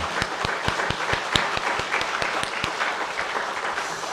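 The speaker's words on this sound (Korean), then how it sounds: "우리 찬양대 너무 귀한데 하나님께 영광의 박수를 한번 더 올려드리면 좋겠습니다" A church congregation claps for the choir at an Easter Sunday service, a brisk, steady patter of many hands with a few sharp individual claps standing out near and loud.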